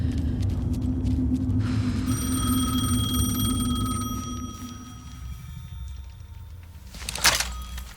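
In the Alan Wake 2 video game, a telephone rings with a sustained electronic tone over a low ambient rumble, then fades, followed by a brief thunk.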